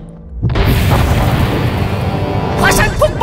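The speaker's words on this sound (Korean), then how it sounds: "화산 폭발이다!" A volcano eruption sound effect in a children's dinosaur rescue musical: a sudden deep boom bursts in after half a second of quiet, then a loud sustained rumbling roar continues, with a faint voice-like cry near the end.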